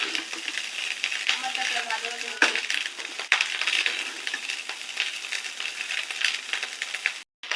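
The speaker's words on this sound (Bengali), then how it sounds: "এইভাবে নাড়া দিয়া ভাতটা ডিমের সাথে ভাজা ভাজা করতে হবে" Rice frying with egg in a pan while being stirred: a steady close sizzle with scraping and light clinks of the utensil throughout, one sharp knock midway and a brief dropout near the end.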